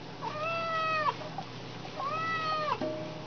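A cat meows twice, loud, drawn-out and close, while being washed in a sink, with faint splashing between the cries.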